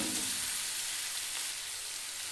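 Onions fry in a pan for mango chitranna, a brief close sizzling hiss that stays even and fairly loud with no speech.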